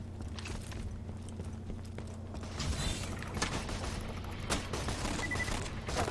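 Gunfire in the video game Borderlands 2, a run of quick, sharp shots over a steady low hum of background game ambience, no talking.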